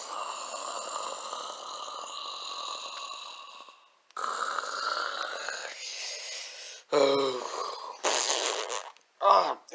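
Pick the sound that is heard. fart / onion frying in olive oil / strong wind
fart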